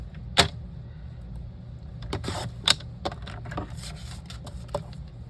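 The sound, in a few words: cutting gray cardstock for a card layer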